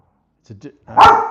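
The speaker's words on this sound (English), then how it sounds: "Can't keep barking while I'm chatting, boys." Dogs barking indoors, two small soft yips followed by one loud close bark.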